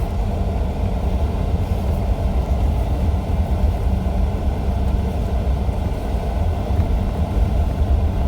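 A car engine runs steadily while driving on a rough road near Monument Rock, a continuous low rumble with road noise, fairly loud and unbroken, with no talking.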